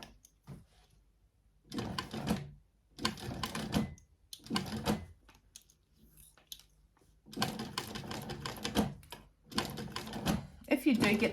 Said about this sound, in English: I'm going to stitch over the stitch line that I already had there for when I top stitched it